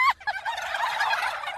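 Turkeys on a farm let out a fast, warbling gobble, loud and close, that rattles on for over a second with no voices around.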